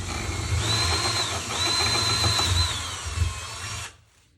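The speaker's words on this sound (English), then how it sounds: "See how easy it drills." A power drill bores through a metal workpiece for a coat hook at moderate speed and even pressure, giving a steady whining hum with a high-pitched tone for about four seconds before it stops abruptly.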